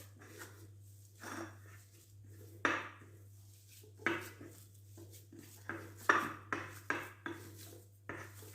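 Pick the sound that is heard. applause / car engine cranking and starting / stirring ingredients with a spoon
stirring ingredients with a spoon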